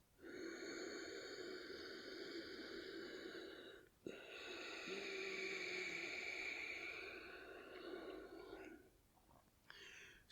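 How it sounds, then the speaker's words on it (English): Ujjayi yoga breathing, a soft hissing breath drawn through a constricted throat at the glottis, like an ocean wave; two long, steady, quiet breaths in close succession, with no talk. "constrict the passage of the breath at the base of the throat, the glottis area, which will make a slight hissing like an ocean wave-like sound."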